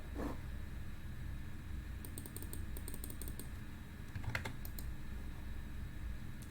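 Fingers type on a computer keyboard, with quick clicky keystrokes in two short bursts separated by pauses, close and fairly quiet over a low steady background hum.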